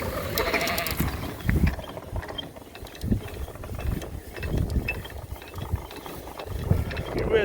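A ratchet mechanism clicks in bursts as a livestock shelter curtain is lowered in a windy sheep barn with first-time lambs. Sheep bleat nearby between the ratcheting, and brief talk is heard.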